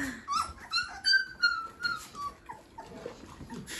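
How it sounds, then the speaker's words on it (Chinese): Newborn puppies with freshly opened eyes whimper in a run of high, wavering whines, close and fairly loud, with faint rough growls mixed in. "看这小狗啊，这性格"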